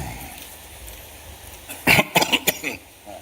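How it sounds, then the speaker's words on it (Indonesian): A short burst of several harsh coughs breaks through faint background noise, close and fairly loud. "Udah batuk-batuk."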